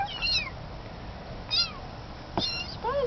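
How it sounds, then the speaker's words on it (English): A kitten gives several short, high meows, spaced about a second apart and fairly close, over a quiet background. "Oh, well, it attracted one cat."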